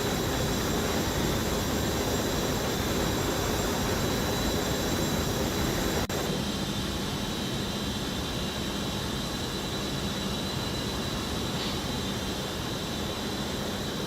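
Steady roar of the twin jet engines of an Embraer E145 in the X-Plane 11 flight simulator, a loud broadband rush with a faint high whine, constant throughout with no voices.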